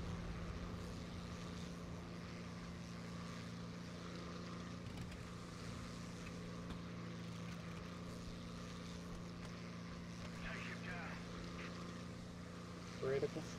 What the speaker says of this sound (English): It's an airplane. It's supposed to go fast.